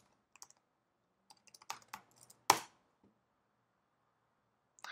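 An SSH command typed on a computer keyboard in a quiet room: sparse, soft key clicks building to a few louder taps and one sharp keystroke, then a final click after a pause.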